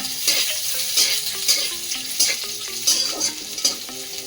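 Chopped onions, garlic and small pieces of ginger fry in a hot pan. A steady sizzle runs under rhythmic stirring scrapes, close and clear, with no talking.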